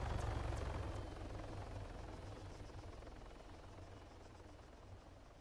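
A Little Bird helicopter in a video game passes overhead, a steady low rotor drone and engine buzz that is loudest at the start and slowly fades as it moves away, with no talk over it.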